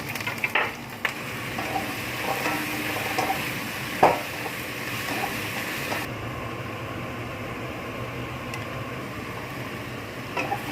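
Onion sizzles in hot oil in a pan, giving a continuous frying hiss with a few scraping clinks of a utensil; the sizzle thins out near the end, and no one speaks.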